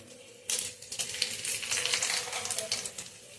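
Dried red chillies hit hot oil already holding a pinch of turmeric. A sudden crackling sizzle bursts up and keeps popping and spitting close by, fairly quiet overall.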